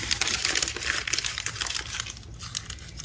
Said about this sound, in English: So we're gonna just crumple it up.